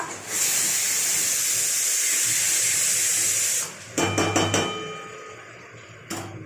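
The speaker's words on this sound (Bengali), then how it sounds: "তো এখানে কলমি শাক ভাজা হচ্ছে।" Water spinach frying in a pan in a home kitchen: a loud, steady sizzle for several seconds that cuts off, followed by a few sharp clanks of utensils.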